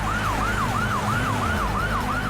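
A wailing siren sweeps up and down steadily and continuously, loud and close, over a low engine rumble.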